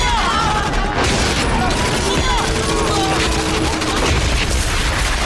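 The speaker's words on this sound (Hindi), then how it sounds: "अब वो मशीन गनों से गोलियां चला रहे हैं" Gunfire from a Hollywood action movie dubbed in Hindi, a dense continuous battle mix of shots and bursts with booms and crashes, loud and busy throughout, layered under dialogue and music.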